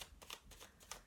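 Quick riffling bursts of tarot cards being shuffled, several crisp rustles in a row, close and fairly quiet.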